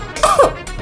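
A voice imitates a grandmother's cough: one short, husky cough burst followed quickly by a second, brief and close.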